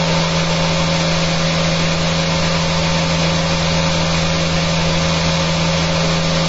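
An electric motor runs steadily through a long run test, giving a loud, continuous whirring drone with a constant hum and no pauses or voices.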